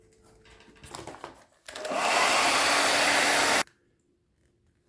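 A heat gun blows hot air onto vinyl wrap on interior car trim, starting with a quieter whirr, then a loud, steady rushing blast for about two seconds before cutting off abruptly, with no talking.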